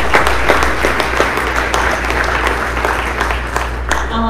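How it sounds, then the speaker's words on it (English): Dense, steady audience applause for the parents at a school awards evening for juniors and seniors, loud and close with a constant wash of claps over a low hum and no talking. "So let's give our parents a round of applause"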